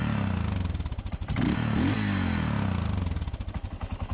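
A 1992 Yamaha XT 600 with a LeoVince X3 exhaust and baffle idling and revving up loudly nearby, its exhaust thumping in a steady pulse that quickens and sharpens as the throttle opens.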